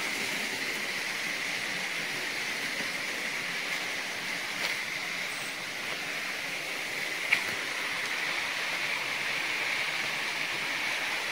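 Steady broadband rush of the Seribu Pantang Larang waterfall at night beside an abandoned temple, a continuous even roar with a couple of faint clicks over it.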